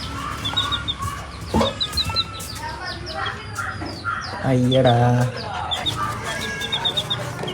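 Chickens cluck repeatedly in a yard around a dog, close and fairly loud, with bursts of a person's voice speaking over them.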